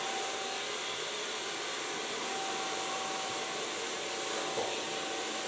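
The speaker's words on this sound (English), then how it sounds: "Start blow drying, of course, with a medium brush." A hair dryer runs steadily while hair is blow-dried over a medium round brush about 4 cm across. The whoosh is continuous and even throughout, with a faint tonal whine and slight shifts as the brush moves.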